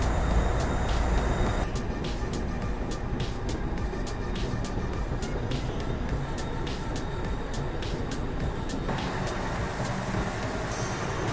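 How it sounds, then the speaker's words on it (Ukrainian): A heavy manipulator truck carrying a loaded modular house rolls slowly, its engine a steady low rumble with rattling and ticking from the load, close and continuous with no talk. "Ну що, перший загрузили їдемо потихонечку."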